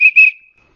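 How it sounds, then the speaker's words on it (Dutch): Conductor's whistle of Bakelite with a small wooden ball inside gives two quick shrill blasts close by, the second fading out into silence. "Het fluitje van de conducteur ligt er ook nog bij."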